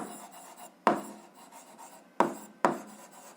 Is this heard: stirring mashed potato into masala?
no